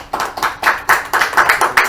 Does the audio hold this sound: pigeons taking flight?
no